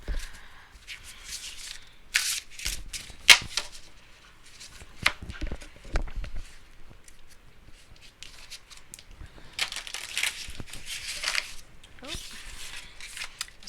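Celtic Spirit Oracle cards are shuffled by hand in close, quiet bursts of papery riffling and soft slaps, irregular and intermittent, with a few louder clatters.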